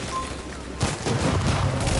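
Sniper gunfire in the video game Destiny, a dense burst of loud, overlapping shots and blasts that swells after a quieter start and keeps up to the end.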